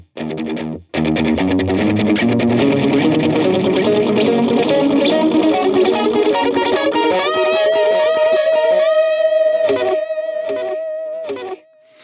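Electric guitar on a Fractal FM3 with a stereo delay, the repeats split between a hard-left and a hard-right cabinet; a fast, dense cascade of overdriven notes builds, then settles into sustained held tones and a few final stabs.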